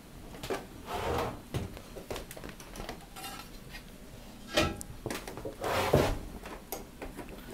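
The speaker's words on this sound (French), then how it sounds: "Vous allez basculer le levier pour ouvrir la porte" A King Canada sandblasting cabinet door is levered open and a part is set inside. A run of close metallic clanks, latch clicks and scraping knocks comes at uneven intervals over a low background hum.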